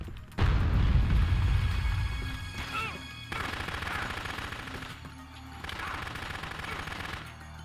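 Sustained automatic gunfire from Dead Rising, with rapid bursts of machine-gun shots that are loud and close, broken by brief pauses between volleys and accompanied by a ringing metallic impact.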